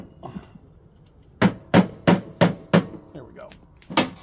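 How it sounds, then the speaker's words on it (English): Hammer pounding on a socket fitted to a lawn mower deck part, six sharp metallic strikes in an uneven sequence, close and loud, with faint handling noise between blows. "Pound on it a little bit."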